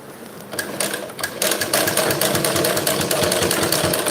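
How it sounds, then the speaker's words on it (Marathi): A sewing machine stitches fine round piping slowly and steadily, a close, continuous rapid clatter that picks up after a quiet start and runs on alone without talk. "एकदम सावकाश अशी शिलाई मारायची आहे"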